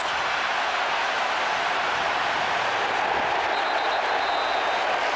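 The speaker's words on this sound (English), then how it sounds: "And with the crowd roaring" Stadium crowd at a 1998 AFC Wild Card NFL playoff game, Buffalo at Miami, roaring steadily as a dense, continuous wash of cheering and noise that holds loud and even throughout, with no clear speech on top.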